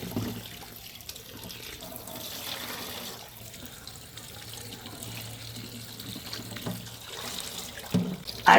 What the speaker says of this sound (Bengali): এবার আমি ২২-২৩ টি কচি টাটকা সিম নিলাম। সেগুলোকে ধুয়ে নিচ্ছি।